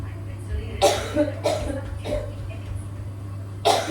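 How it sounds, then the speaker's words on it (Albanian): Several coughs come close to the mic, spaced irregularly over a steady low hum, with a harsher cough at the end. "Kjo kolla."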